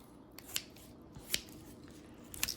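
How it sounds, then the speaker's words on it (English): Kitchen shears snip through the backbone of a whole raw chicken in three sharp, separate cuts spaced about a second apart, close and crisp over a quiet room. "And then I'm going to go back in with my shears."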